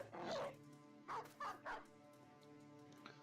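Dog barks from the video game Battle Brothers: a louder bark followed by three quicker, shorter yips, fairly close and alone over a steady low game soundtrack hum.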